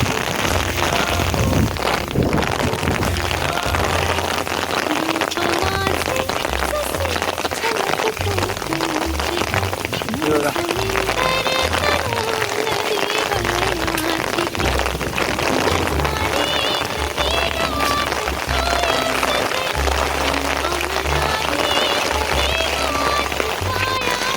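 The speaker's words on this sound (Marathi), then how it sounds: "आणि पाऊस तर जास्तच लागला यार." Heavy rain pours during a sudden downpour in the Konkan countryside, a loud, dense, unbroken roar of drops on surfaces that continues throughout, with a voice talking over it.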